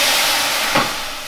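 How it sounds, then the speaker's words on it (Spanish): Water poured onto a hot tray in a gas oven while baking bread bursts into a loud, rushing hiss of steam, with a brief sharp sizzle rising near the middle and then a steady hiss. "Y ahora con cuidado le tiro el vapor acá."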